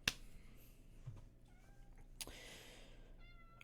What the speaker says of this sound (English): My cat is just being an absolute pest this stream.